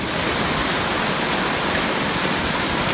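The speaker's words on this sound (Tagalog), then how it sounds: "Super baha na po. Malalim na po. Ito na po ang tubig." Knee-deep monsoon floodwater rushes around a newly occupied house, a continuous, loud, hissing wash of water with no voices over it.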